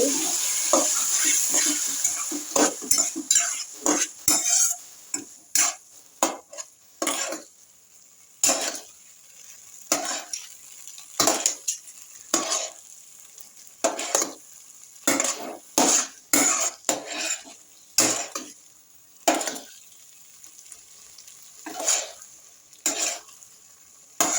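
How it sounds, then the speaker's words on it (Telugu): Maggi noodles being stirred and mixed in a pan, with repeated scraping and clinking of a utensil against metal in uneven bursts and pauses, close and moderately loud over a faint background hiss. "బాగా మిక్స్ చేసుకోవాలి"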